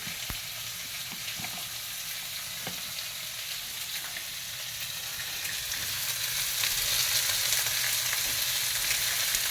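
Potatoes frying in a pan for a potato frittata with ham, mushroom and cheese, giving a steady, dense sizzle that grows slightly louder toward the end, with a few faint clicks of utensils and no talking.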